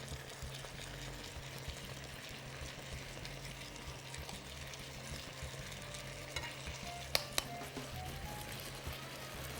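Four cloves of minced garlic fry in a well-filled pan, giving a soft, steady sizzle with quiet stirring and a couple of light utensil clinks near the end.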